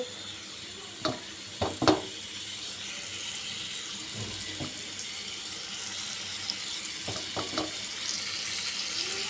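Rupchanda fish going into hot oil in a home kitchen, giving a steady broadband sizzle that holds throughout, with a few louder splashy crackles early on and a small cluster near the end.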